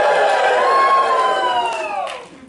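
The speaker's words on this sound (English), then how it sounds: "Cheer if you're a dork!" A convention panel audience at Anthrocon cheers loudly as a crowd, a dense sustained roar of many voices with whoops that holds steady, then fades toward the end.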